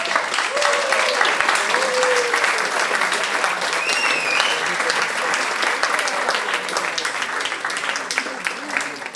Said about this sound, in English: give a round of applause to all of you too